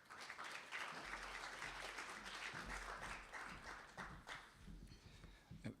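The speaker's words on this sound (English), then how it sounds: "Please give him a big round of applause." Audience at a seminar applauding a welcomed speaker, a quiet, uneven patter of clapping from a modest room that swells and then thins out toward the end.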